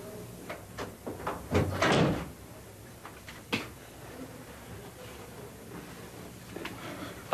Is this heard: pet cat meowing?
no